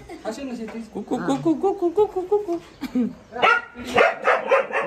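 A dog barks and yips repeatedly in quick, irregular bursts while people talk nearby over it.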